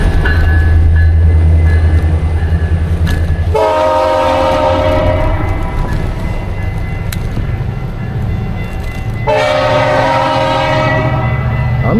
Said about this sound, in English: that horn sounds a mess